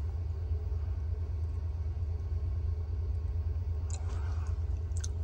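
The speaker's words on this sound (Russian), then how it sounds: "Машину буксовать начали." A car engine drones in a low, steady rumble as wheels spin without grip in snow; a brief faint squeal near the end, no talking.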